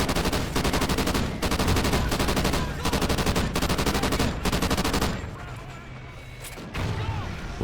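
Remington R5 assault rifle in Call of Duty: Ghosts firing loud, rapid bursts of closely spaced shots with short gaps, then tapering into quieter battlefield noise.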